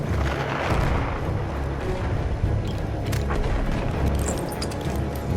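Grenade blasts in the Battlefield 1 video game, a dense, loud rumbling roar of explosions and debris that stays heavy and continuous throughout the short stretch.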